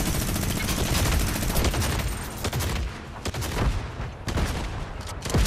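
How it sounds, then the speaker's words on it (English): A minigun fires in Fortnite, a loud, dense rattle of rapid shots that runs nearly continuously with brief breaks and no talk. "minigun tag."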